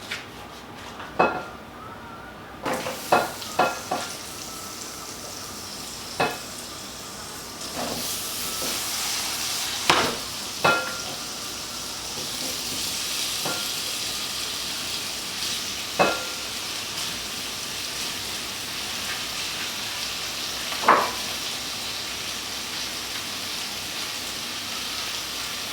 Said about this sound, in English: I'm going to put my potatoes in the skillet and mix it with the pot roast seasoning